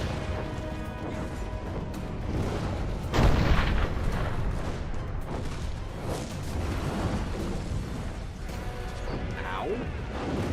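Cannon fire in the Dungeon Siege 3 video game, a dense wash of booming blasts and crashes with one heavier impact near the start, over continuous game noise and a talking voice.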